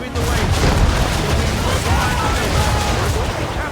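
Heavy booming cannon fire in an Assassin's Creed game set in 1776 rumbles continuously through a dense, loud wash of noise, with thuds layered over one another for the whole stretch.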